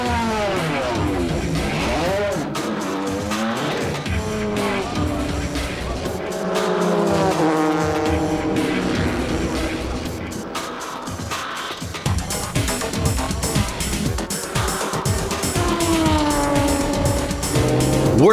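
A Denso JGTC race car leaves the pits after a driver change, its engine revving up and down in rising and falling sweeps alongside squealing tires, with commentary voices in the background.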